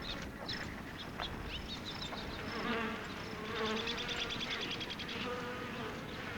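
Honeybees nesting in the old stem of a dead cactus buzz continuously in a close, dense hum of many wings, with faint birdlike chirps mixed in and no talking.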